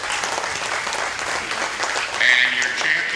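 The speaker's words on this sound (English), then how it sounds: "Let's give Riel a round of applause." Steady, dense applause from an audience at a county fair hog show carcass award, sustained clapping that swells slightly toward the end.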